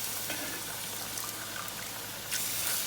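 Soaked rice noodles tipped with their starchy soaking liquid into a pan of pad thai, giving a soft continuous trickle and sizzle, close and steady, with no voices.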